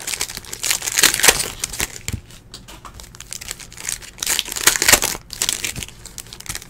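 Plastic wrappers on 2017-18 Optic basketball card packs being torn open and crumpled, a steady stream of loud, close crinkling and ripping with short pauses.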